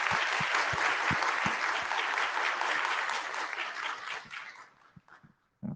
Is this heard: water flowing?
no